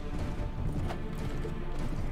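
Horse hooves clatter in a steady, busy galloping rhythm during a Mount & Blade Warband battle, loud and continuous with a dense game soundscape beneath.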